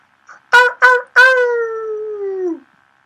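People imitate a wolf howl with their voices: a couple of short yelps, then one long, loud sustained howl that slowly falls in pitch before cutting off.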